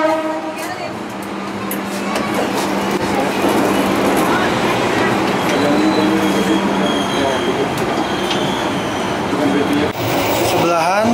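The Bengawan passenger train runs on the rails near Purwokerto station, with a loud continuous rumble of wheels and carriages, some squealing and rattling, and a voice talking over it near the end.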